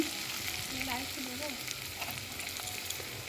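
Onions sizzling and frying in a pan as they turn red-brown, a steady close broadband sizzle with faint stirring and a little background talk.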